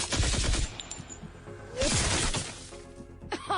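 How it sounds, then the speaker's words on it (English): Autocannon fire in a tabletop sci-fi game session: two loud bursts of rapid heavy shots with crashing, shattering texture, separated by a quieter gap, then a brief third burst at the end. "Clara fires her autocannon at Sheffy."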